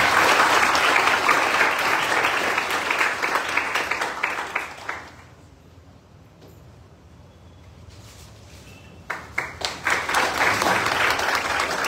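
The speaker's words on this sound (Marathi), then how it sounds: "टाळ्या स्वागत करा" Loud applause from an audience welcoming a guest speaker, an IPS officer, at a talk on civil services exam preparation. It fades into a near-silent lull midway, then dense clapping picks up again with sharp, close claps.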